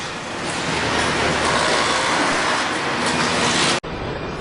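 Robots weld car bodies on a Hyundai assembly line in Alabama, producing a loud, continuous industrial roar that cuts out abruptly near the end, then resumes.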